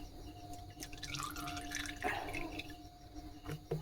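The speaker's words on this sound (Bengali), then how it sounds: "বেশ অনেকটা তেল দিতে হবে।" Cooking oil poured from a bottle into a small wok (karai). A faint, close trickle of liquid comes with light drips and splashes, and no one speaks.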